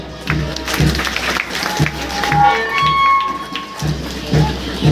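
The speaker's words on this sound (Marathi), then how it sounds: "एकदा जोरदार टाळ्या झाल्या पाहिजे" Audience applause at a Republic Day parade as a police contingent marches past, a steady outdoor wash of clapping with intermittent low thumps, continuing throughout at moderate loudness without clear speech.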